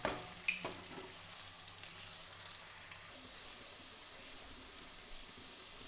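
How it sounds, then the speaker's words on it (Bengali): Potato pieces sizzle and fry steadily in a pan while cooking jhinga aloo posto, with a continuous crackling hiss and a few light stirring clicks near the start, close and fairly quiet, no talking. "দিয়ে দিচ্ছি আমি স্বাদ মতো নুন দিয়ে আলুগুলো আর একটু ভাজবো যতক্ষণ না হালকা সেদ্ধ হচ্ছে।"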